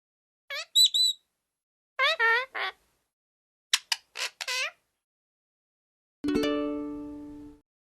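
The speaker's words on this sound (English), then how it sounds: "Parrot." A parrot calls in three short bursts of high, squawking chirps, clear and close with silence between them, then a sustained tonal note follows.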